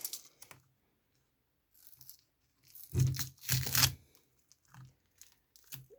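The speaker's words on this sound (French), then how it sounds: "Du coup, je vais remettre le scotch." Adhesive tape being handled on an electric scooter battery pack, heard as a few scattered crackles and a louder burst of tearing and crinkling in the middle, with quiet gaps between.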